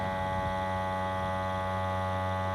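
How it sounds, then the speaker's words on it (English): A vacuum sealer's small motor drones on without pause, a steady mechanical hum running evenly at moderate volume. "put them up on our vacuum sealer"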